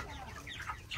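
Chickens, 45 days old, cluck softly in short bursts, a few calls close together against a low, noisy background.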